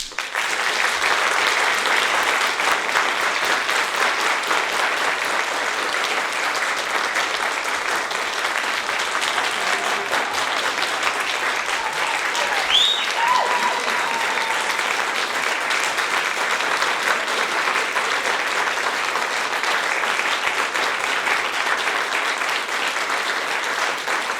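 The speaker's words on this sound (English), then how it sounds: "Round of applause, please, for Lois Ingram." Sustained applause from a crowd, steady and even throughout, with a faint voice briefly surfacing midway.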